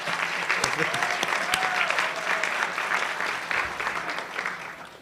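Luncheon guests at a press club event clap for the speaker's parents, a steady burst of applause with a few sharper claps, fading slightly toward the end while a voice murmurs briefly underneath.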